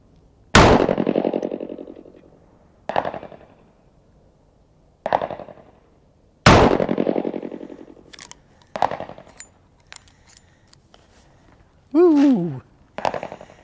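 Gunshots from an American Derringer DA .38 Special pistol: several sharp, loud cracks spaced a few seconds apart, each with a ringing decay, plus metallic handling clicks and a brief reloading rattle between shots.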